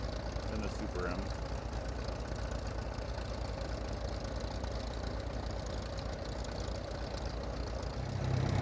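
Two Farmall tractors, an M and a Super M, idling together with a steady low, knocking engine rumble that holds throughout and swells slightly at the end; faint voices may sit underneath.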